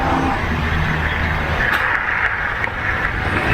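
Inside a moving car, a steady low engine and road rumble drones on, with a few faint clicks and rattles from the cabin.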